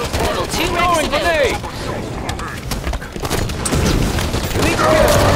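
Gunfire and explosions in a Halo 5 Warzone match, a dense, loud barrage of shots and booms running throughout with game voice callouts and effects layered over it.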